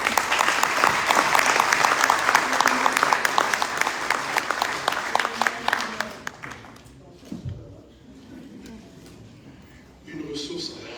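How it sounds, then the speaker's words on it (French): Applause breaks out for an elderly historian at an Africa Day event at UNESCO, loud and dense for about six seconds, then thinning to scattered claps. Quiet room noise follows, and a voice starts near the end. "qu'on t'applaudisse"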